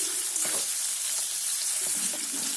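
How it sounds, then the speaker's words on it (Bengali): Onions frying in a pan toward browning, giving a continuous bright hiss of hot oil with a few faint soft stirring knocks underneath, steady and close, with no talking. "এবার পেঁয়াজটাকে খুব ভালো করে ভেজে নেব, বাদামি কালার যাতে চলে আসে পেঁয়াজটা"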